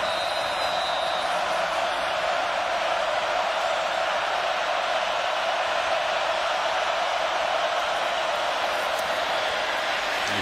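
A large crowd roars steadily throughout a 2017 Clemson vs Virginia Tech college football game, a dense, continuous wash of stadium cheering that stays loud and unbroken from start to finish.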